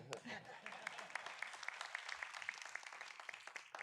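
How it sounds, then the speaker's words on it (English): An audience at a city council meeting breaks into applause during an introduction of a touring Spamalot actor, a quiet, steady patter of many hands with a voice speaking over it. "there you got some applause there"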